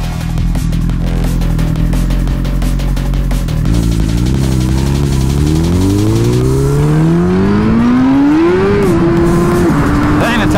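Suzuki GSX-R1000R sportbike under hard acceleration with the rear tire spinning, its loud engine note climbing steadily in pitch through the gears, close and continuous, with wind roar rising behind it.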